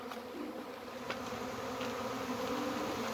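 Honey bees buzz in a continuous, dense drone around a backyard hive, close and steady, with no talk.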